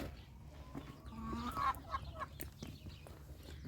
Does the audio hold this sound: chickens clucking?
yes